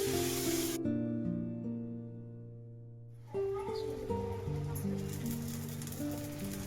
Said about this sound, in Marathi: त्याच्यावर टाकूया ढोश्याचं पीठ हे डोश्याचं पीठ आहे